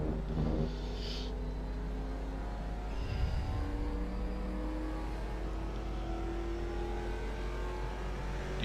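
A race car on the Road Atlanta circuit holds a steady engine drone as it accelerates through a corner, heard from the cabin with a continuous mid-pitched hum and no talk.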